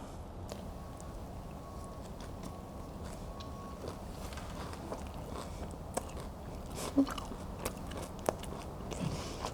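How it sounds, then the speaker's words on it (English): Someone chews food close to the microphone, with soft irregular crunches and mouth sounds over a quiet room background. "don't mind me chewing for 45 minutes"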